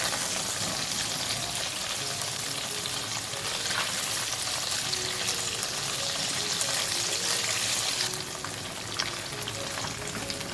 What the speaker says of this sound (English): Turn the slices over after a couple of minutes and fry the other side for 2 minutes.